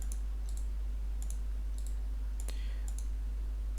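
Computer mouse clicks on a Windows 11 desktop: several sharp, close clicks spaced irregularly, some in quick doubles, over a low steady hum with no talking.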